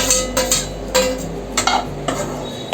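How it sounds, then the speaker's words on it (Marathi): Batter being sautéed in ghee in a pan for traditional turmeric-leaf patolya, with repeated scraping strokes of a spatula against the pan at a steady rhythm over a soft background sizzle, close and clear. "थोडासा गॅस मोठा केलेला आहे चांगलं परतवून घ्यायचं तुपावर"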